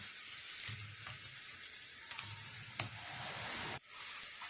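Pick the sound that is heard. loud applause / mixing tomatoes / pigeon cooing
mixing tomatoes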